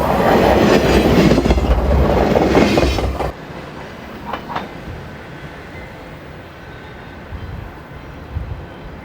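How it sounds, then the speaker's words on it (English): Amtrak's Wolverine passenger train roars past close by on a curve on the west side of Ann Arbor for a few seconds, then its rumble drops off sharply, leaving quieter rail clatter and faint distant knocks. "Coming around the curve on the west side of Ann Arbor is Amtrak train number 250"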